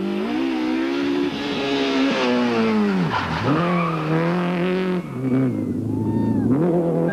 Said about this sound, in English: are Enzo Kuhn and Johan Sielung in the Hyundai Accent four-wheel drive